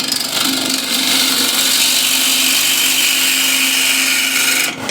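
A half-inch bowl gouge cuts into a spinning mahogany bowl on a wood lathe, giving a steady, loud, continuous shearing rasp over the lathe's hum, close up and without pause.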